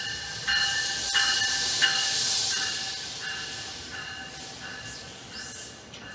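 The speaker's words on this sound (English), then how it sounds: "New Jersey Transit 859 outbound train to Trenton" A New Jersey Transit outbound train to Trenton stands at Iselin station at night, hissing steadily with a faint repeating tonal chime over broad airy noise.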